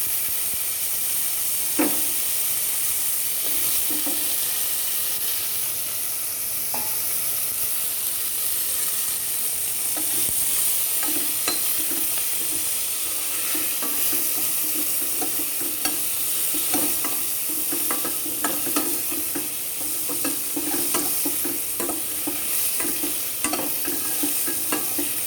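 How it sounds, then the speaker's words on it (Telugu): Brinjal and okra fry in a pan for grandma-style sambar while being stirred, a continuous close sizzle broken by repeated scraping and knocking of the spoon against the pan. "వంకాయ బెండకాయ ఇట్లా ఒక 2 తిప్పులు తిప్పిన తర్వాత"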